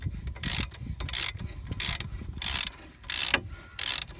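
A ratchet with an 18mm socket loosens the bottom brake caliper carrier bolt on a Mk4 Ford Mondeo's front brakes: about eight close, crisp bursts of rapid clicking with short pauses between strokes, and no talk.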